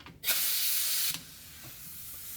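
Compressed air hisses into the brake bleeder of a 1969 Dodge Super Bee, a close, sharp spray that bursts on for about a second and then drops to a quieter steady hiss.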